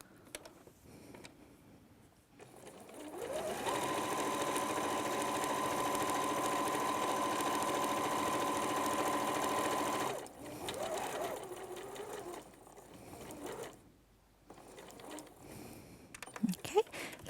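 Sewing machine stitching a fabric pouch up close, a steady fast mechanical whir for several seconds that stops, then short bursts follow with quiet pauses between them.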